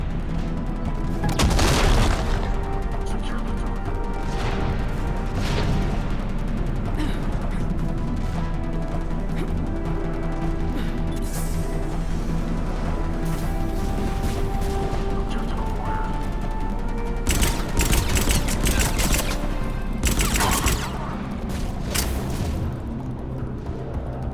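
Gunfire and explosions rattle through a Mass Effect 3 combat scene: repeated heavy booms and mechanical clattering bursts over a continuous low rumble, loud and busy for the whole stretch.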